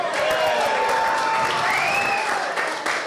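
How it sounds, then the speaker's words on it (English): An audience breaks into steady applause at a Latin Living Legends event honoring house music, a dense wash of clapping with a few whoops, loud and sustained throughout. "You clap for yourself."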